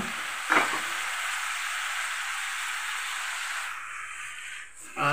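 Eggplant and potato pieces frying in a pan for a sour mango curry give a steady, close sizzle that runs without a break. One louder clatter comes near the start, and a hiss rises briefly at the end.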